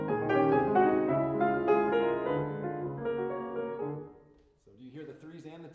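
Piano passage mixing eighth-note triplet groupings with duples in 9/8, rich sustained chords in a flowing rhythm that fades out after about four seconds, followed by a short stretch of quiet talking.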